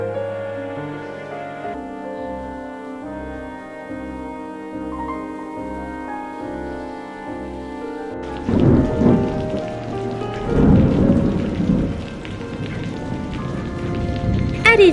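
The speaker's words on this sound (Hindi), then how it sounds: "ये बारिश शुरू हो गई।" Rain begins over a household scene in a Hindi animated story about a poor crow family, a steady patter that swells after a quiet musical opening, with a couple of loud thunder rumbles rolling through the second half.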